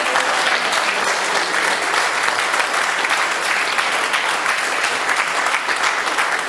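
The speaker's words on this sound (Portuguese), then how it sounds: "Esse aplauso para o Senhor Jesus Cristo." A church congregation gives loud, dense applause in praise of Jesus Christ, continuous and even for several seconds with no break.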